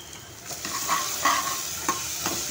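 Turmeric and raw mango stirred and sautéed in a pan over low flame, with a steady soft sizzle and scraping stirs of a spoon recurring every half second or so, close by.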